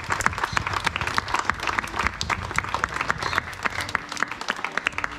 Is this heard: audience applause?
yes